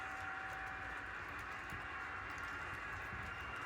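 A long model train drawn by Scale Trains SD40-2 locomotives runs past, giving a faint, steady rolling rumble with soft clicking of wheels on track and a thin whine above it.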